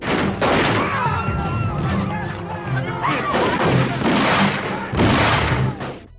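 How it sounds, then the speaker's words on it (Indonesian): Gunfire erupts in a film shootout between gangsters and a bandit, loud repeated shots and bursts crowding together with a heavier blast around the middle, layered over dramatic soundtrack noise and voices. "Di tengah baku tembak, Sonny mendapati Dolly yang terkena tembakan"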